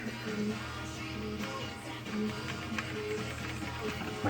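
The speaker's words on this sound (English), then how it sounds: "My clanking when I start up." A Ford 4.6 engine in a Crown Victoria clanks at startup from a worn timing chain with a failed tensioner, a quiet rhythmic rattling knock over a steady idle hum, heard up close.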